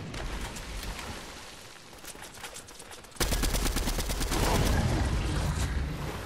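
Rapid automatic gunfire from the Fortnite Chapter 3 Season 1 battle royale, loud and sustained bursts that grow denser and heavier halfway through, with no talk over them.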